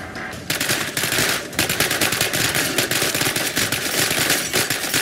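Rapid automatic gunfire in the video game DeadHeaven, a dense, loud, continuous stream of shots after a brief opening burst, with a short pause near the start before the firing resumes without break.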